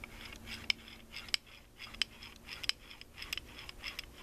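Internal parts of a 4L60E automatic transmission turn under hand pressure on a workbench during a rebuild, giving faint, irregular metallic clicks and ticks against a quiet background with no talk.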